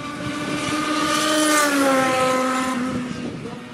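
A race car roars past, its engine pitch rising and then falling as it revs hard, loud and fairly close, with a rough hiss suggesting tire noise.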